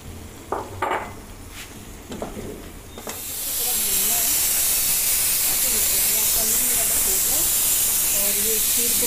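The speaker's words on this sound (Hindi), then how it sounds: "अब मैं इसमें भिंडी डालूंगी।" Okra (bhindi) hits a pan of fried spice masala with a sudden loud sizzle that keeps hissing steadily, after a few clinks and knocks of utensils against the pan.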